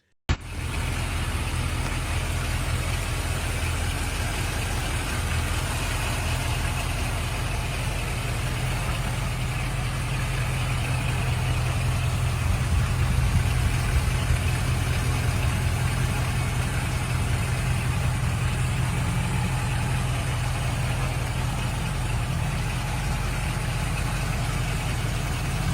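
A 1957 Chevrolet Bel Air engine idles in a steady, even low rumble that holds for the whole stretch, close and fairly loud, with no voices over it.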